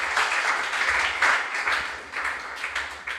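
An audience at a junior science and maths quiz contest breaks into a steady round of applause, dense and continuous clapping from many hands throughout, with no voices audible.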